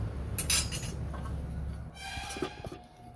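A lid is set onto a cooking pot where fish is boiling in salted water, giving a couple of close metallic clinks and a brief rattle over a low background hum, with no talk.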